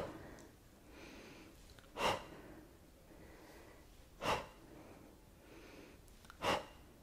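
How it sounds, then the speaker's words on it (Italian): Heavy breaths from a person doing a single-leg glute exercise in a cellulite workout, three loud, sharp exhalations spaced about two seconds apart over quiet background. "Respiro."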